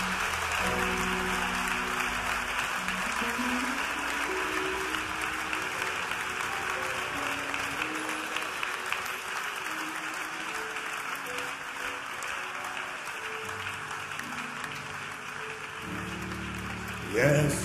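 Church congregation applauding steadily during a worship service, sustained dense clapping throughout with music or voices faintly underneath, swelling slightly at the end.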